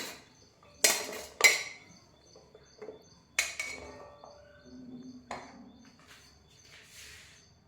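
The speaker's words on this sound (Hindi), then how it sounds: "अब इसको इसमें डाल देते हैं एक बोल में।" Long-cut beetroot and carrot pieces tipped into a bowl: several sharp clattering clinks of hard pieces and utensil against the bowl, close and distinct, followed by quieter taps and scrapes in a quiet room.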